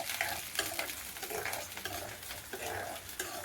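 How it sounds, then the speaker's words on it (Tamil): Onion, garlic, green chili and ginger sauté in a pan for groundnut chutney, a soft continuous sizzle with repeated scraping strokes of a stirring spoon, fairly quiet and close, with no talking. "பூடு, பச்சை மிளகா, இஞ்சி, இது எல்லாத்தையும் நல்லா வதக்கிடுவாங்க."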